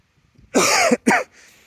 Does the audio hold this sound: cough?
yes